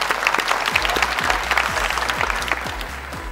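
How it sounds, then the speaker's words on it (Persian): An audience on the Afghan Family Feud game show applauds in a dense, sustained burst of clapping, loud and steady throughout, with no talking over it. "تشویق کنید نفرهای چهارم"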